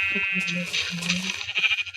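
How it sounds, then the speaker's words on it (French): Sheep in the Minecraft video game bleat several times in short, wavering calls, clear and moderately loud, mixed with light game sounds and a person speaking. "Oh mais c'est mignon, pauvre mouton quoi."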